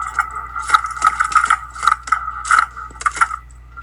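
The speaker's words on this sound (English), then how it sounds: "It's the sound of cheeseburgers hitting a dock in the movie Cloudy with a Chance of Meatballs." Foley splats standing in for cheeseburgers hitting a dock in the movie Cloudy with a Chance of Meatballs: about a dozen sharp, wet slapping impacts land at an uneven pace over four seconds, close and fairly loud, with no talking.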